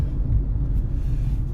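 A 2012 Mitsubishi Outlander Sport ES rolling over a series of speed bumps, heard from inside the cabin as a steady, loud low rumble of road and suspension noise without distinct separate thumps.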